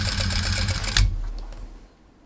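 A sewing machine stitches a shoulder seam on a mesh tank top with a fast, steady whirring hum for about a second, then stops, leaving a quiet tail.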